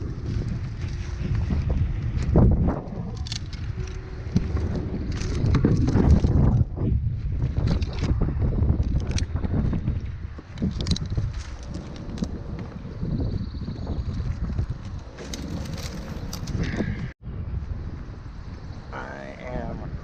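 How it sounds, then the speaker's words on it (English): Strong gusts of wind at roughly 20 mph buffet the microphone in loud, uneven rumbling bursts, with faint talk in between. "Got old 20-mile-an-hour winds today"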